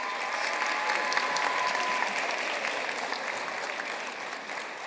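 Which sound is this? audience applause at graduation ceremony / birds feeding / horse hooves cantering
audience applause at graduation ceremony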